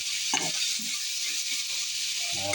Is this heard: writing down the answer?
no